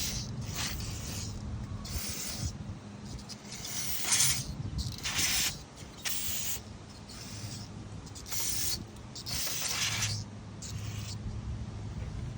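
Aerosol brake cleaner sprayed onto the front brake pads of a 2017 Buick Envision 2.5L AWD outdoors, a run of repeated loud hissing bursts of about a second each, separated by short pauses, over a low steady background rumble.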